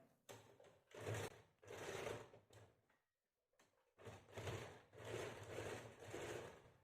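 Sewing machine running in quick bursts of stitching on a kameez, with a short pause mid-way before stitching resumes, close and clear with no talk.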